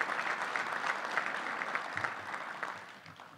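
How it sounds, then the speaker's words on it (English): A conference audience gives a sustained round of applause that stays dense and even, then tapers slightly toward the end. "let's give them another round of applause"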